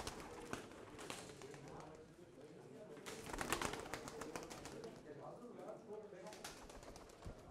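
Pigeons coo softly at a bird sale in Turkey, low murmuring calls mixed with wing flutters, while several people talk nearby.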